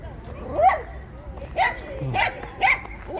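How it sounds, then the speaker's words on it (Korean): Dogs squabble at a park in Songpa-gu, Seoul, trading short yips, whines and barks in several bursts at moderate distance, with no clear talk. "강아지가 기득권 싸움이에요"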